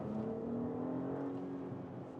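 An Audi A5/S5 accelerates out of a tight corner, its engine giving a steady rising hum heard from inside the cabin, moderately loud and uninterrupted.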